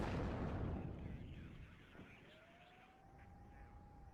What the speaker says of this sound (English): we're gonna start shelling the living hell out of the airfield